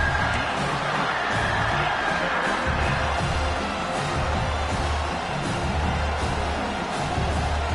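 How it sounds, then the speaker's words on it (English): A packed football stadium crowd roars early in a game, a dense continuous wash of cheering and noise at steady loudness, heard alone without commentary. "It's early, but this crowd is fired up."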